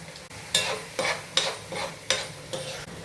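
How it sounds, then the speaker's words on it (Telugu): Masala paste frying in hot oil while being stirred, for a fish fry, with a steady sizzle broken by rhythmic scraping strokes of a spoon against the pan, close and loud. "ఇదంతా బాగా ఆయిల్ పైకి తేలే వరకు వేపుకోవాలండి"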